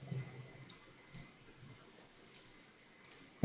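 Computer mouse clicking through a Trello menu, four or five faint, sharp, isolated clicks spread unevenly over a few seconds against quiet room tone.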